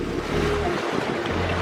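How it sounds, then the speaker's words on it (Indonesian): Strong ocean waves surge and wash steadily at Bahu Beach in Manado, loud and close, with a low rumble of wind and water and no talking. "padahal ini ombak cukup kuat"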